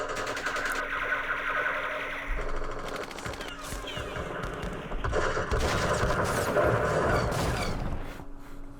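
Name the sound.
artillery firing in the video game Campaign Series Vietnam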